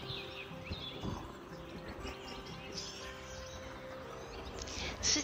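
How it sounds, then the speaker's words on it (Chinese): Faint chirps and tweets of birds sound in the open air of the small Austrian town of Melk at sunset, with light background ambience and no speech. "就默默的被这种大自然的声音啊、 虫鸣鸟叫吸引住了"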